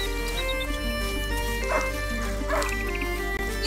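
A hunting dog in the video game A Plague Tale: Innocence gives a few short yips and barks over steady background game music, with no talk during the sounds.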